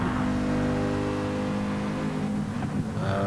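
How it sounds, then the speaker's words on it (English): A Mercedes racing car engine revs with a strong, steady tone that wavers toward the end, heard alone with no talk. "Listen to that Merc."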